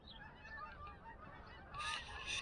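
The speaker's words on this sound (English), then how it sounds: "That's a lot of geese." A flock of geese honks overhead above a homestead, the calls distant and faint at first, then a louder burst of overlapping honks near the end.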